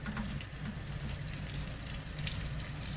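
Shallots, ginger and fennel seeds sautéing in hot oil give a steady, close sizzle and crackle that holds evenly, with no voices.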